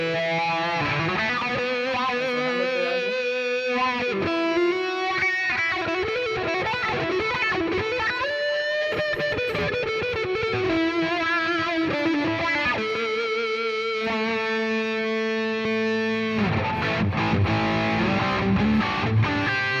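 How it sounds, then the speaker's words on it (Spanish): Electric guitar played through a Headrush effects unit with a Dynamics 67 setting, wah-wah and reverb, ringing chords and sweeping filtered notes sustained loud and continuously throughout, with a brighter strummed burst near the end. "siempre tengo el respectivo reverb y le he agregado un wah-wah"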